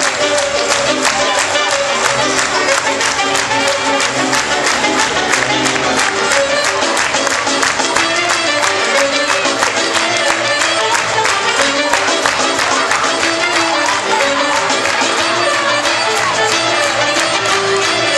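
A school circus crowd in Oude Pekela claps for the mat acrobats, loud, dense, sustained applause that runs unbroken, with scattered cheering mixed into the steady clatter of hands.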